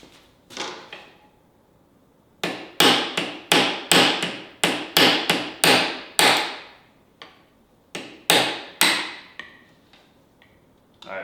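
Hammer blows on a socket and extension while working on a KTM 525xc dirt bike, a series of sharp metallic strikes in quick irregular clusters with brief pauses between, close and loud.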